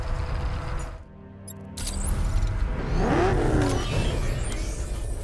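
In the Batman Arkham Knight video game, the Batmobile's engine revs and surges, with a brief dip and mechanical clatter before the loud, rising roar returns and carries on under faint whirring effects.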